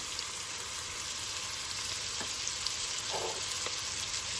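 Onion, dried thyme and black pepper sizzling in a pot, a steady, even frying hiss holding throughout with a couple of faint clicks of a utensil, close and alone.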